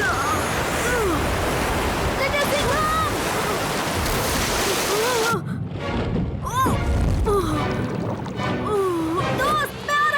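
A cartoon torrent of high-pressure water, a loud continuous roaring rush that briefly dips then surges again, with squeaky animated voices and whooshing effects layered over it.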